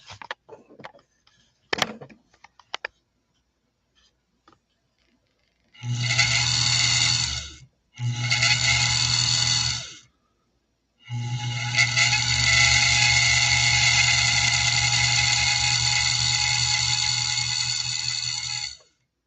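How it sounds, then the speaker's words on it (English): An old sewing machine's motor runs in three separate bursts with a steady whine and a slight grinding rub, close up and loud, with a few light mechanical clicks before it starts. "Can you hear that little bit of grinding sound? It's almost like something's rubbed."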